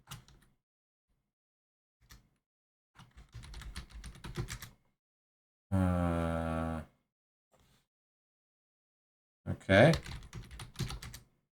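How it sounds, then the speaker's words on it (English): Short bursts of clicky keyboard typing on a computer, quiet and close, separated by silences, with a brief spoken word and a louder tonal burst in between. "So I can type"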